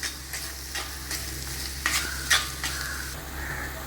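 Tomatoes with salt sauté in a pan for a pakoda kuzhambu, giving a steady close sizzle broken by a few stirring scrapes of a spoon against the pan.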